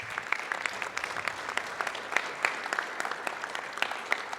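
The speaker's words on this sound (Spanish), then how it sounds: "y eso hay que aplaudirlo" Applause from an audience at a political assembly in Mexico, a steady wash of many hands clapping with sharp individual claps standing out, moderately loud and continuous throughout.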